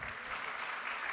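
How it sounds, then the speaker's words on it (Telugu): A church congregation clapping for the media team, a steady, even wash of applause from many hands over a brief moment, fairly soft and distant. "మా మీడియా వారికి కూడా ఒకసారి చప్పట్లు కొట్టండి."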